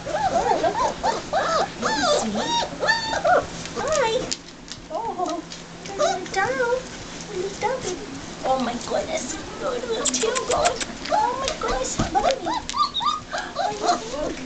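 German Shepherd puppies whimpering and squealing nearby, repeated high, wavering cries throughout, with someone talking to them over the top.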